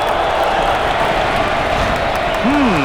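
Dense roar of a basketball arena crowd at an Arizona State vs. Arizona game, building steadily throughout as the chant begins, with a commentator's voice over it.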